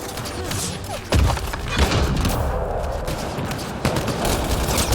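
Combat in Mass Effect: Andromeda with a grenade going off amid gunfire: sharp cracks and heavy thumps punch through a constant battle din, the loudest landing just after the first second, with a few more hits spaced out later.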